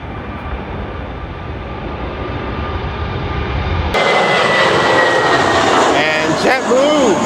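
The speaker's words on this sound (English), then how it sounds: "And JetBlue just took off." A JetBlue airliner takes off from an airport. The jet engine roar builds steadily and grows louder and brighter partway through. It is heard from outside at a moderate distance, and a voice comes in briefly near the end.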